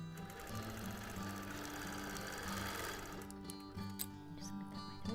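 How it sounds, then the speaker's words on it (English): A sewing machine runs in a fast, steady mechanical chatter as it makes a few short lock stitches during free motion quilting, then slows and stops near the end. "So again, 4 or 5 little lock stitches overlapping what was there before."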